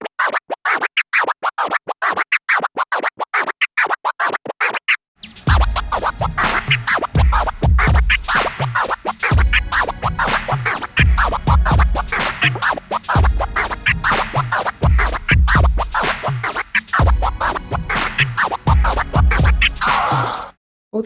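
Autobahn scratch performed by a DJ on a turntable: rapid clicked cuts at first, then a dense, continuous run of fast rhythmic scratches over a beat, loud and close throughout.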